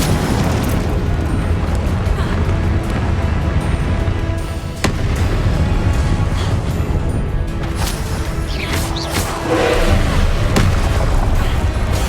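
Heavy booming explosions from the Incendio and Confringo spells in the Hogwarts Legacy video game, loud and sustained with rumbling bursts layered over continuous game noise and music.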